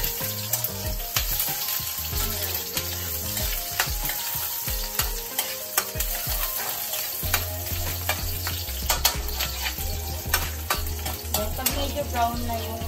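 Garlic and onion fry in a pan for bean sprout lumpia, with a loud constant sizzle broken by frequent stirring scrapes and utensil clicks close by, and no one speaking.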